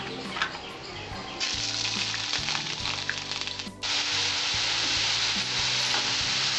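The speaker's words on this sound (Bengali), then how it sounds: "তেলটা আমার গরম হয়েছে এবার আমি বেগুনটা ছাড়বো" Brinjal pieces drop into hot mustard oil for neem begun bhaja, and a loud, close, continuous sizzle surges up and keeps crackling steadily with stirring.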